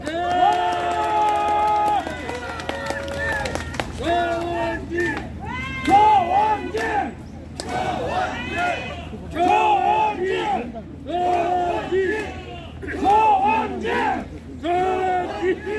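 Rally crowd at a Korean Taegukgi protest by the National Assembly cheering and shouting in repeated loud bursts, with chants and voices rising over steady hubbub as a party leader is introduced.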